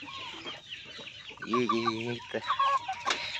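Farm chickens cluck close by in short, repeated calls, one louder drawn-out squawk in the middle, busy and near with little else around.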